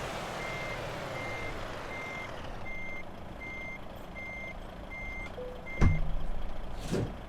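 A DAF XF Euro 6 truck backs up to a trailer in Euro Truck Simulator 2, its reversing beeper pulsing steadily over a low engine rumble, then a short air-brake hiss and clunk near the end.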